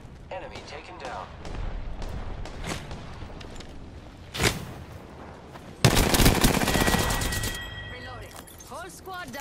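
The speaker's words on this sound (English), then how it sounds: "Shots fired, and they're hitting me." Bursts of gunfire in a battle-royale shooter game: scattered single shots, one sharp crack, then a dense, loud rapid-fire volley lasting a couple of seconds, with faint game voice lines around it.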